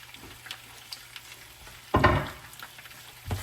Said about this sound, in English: now my butter has melted down. I'm going to go ahead and add my onions